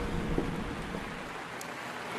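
Steady rain pours in Florida as a dense, even hiss of water that fills the whole moment, with a low rumble underneath and no voices.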